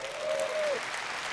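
Brief applause from a large keynote audience of around 21,000 people, a soft wash of clapping with a short vocal cheer or whoop rising through it.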